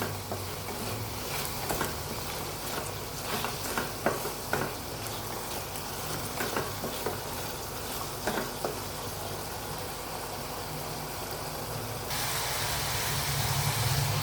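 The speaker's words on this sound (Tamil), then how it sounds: "தக்காளி, உப்பு எல்லாமே போட்டு எண்ணெய் கொஞ்சம் ஊற்றி நல்லா கொஞ்சம் அது வதங்கி வரட்டும்" Chopped tomatoes with salt sauté in oil in a pan, giving a steady close sizzle broken by scraping stirs and taps of a spoon, with a louder hiss building near the end.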